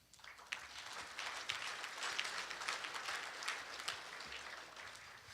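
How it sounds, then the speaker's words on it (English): Applause from a luncheon audience of builders and developers, a quiet, distant wash of many hands clapping that swells in after a moment and holds steady. "So give yourselves a big round of applause."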